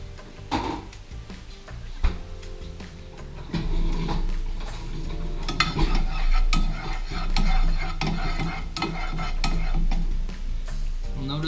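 Grass-fed butter sizzles in a pan, with cauliflower rice stirred through it: steady close frying crackle broken by repeated scraping and clinking stir strokes, growing busier after the first few seconds, with no talking.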